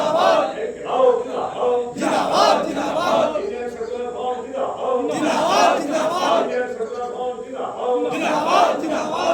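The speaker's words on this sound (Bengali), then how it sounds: "স্লোগান দাও।" A large crowd at a political rally in Basanti, West Bengal, chants slogans in loud rhythmic call-and-response waves, voices swelling and falling in repeated bursts close by.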